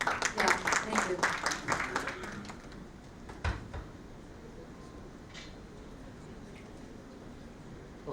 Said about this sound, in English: Can we have a huge round of applause for him, everybody?